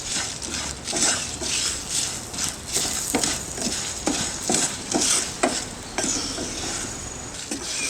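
Red chillies and fenugreek seeds sautéing in a pan, with a steady soft sizzle broken by repeated scraping stirs and light clinks of a utensil against metal, close and moderately quiet, no talking.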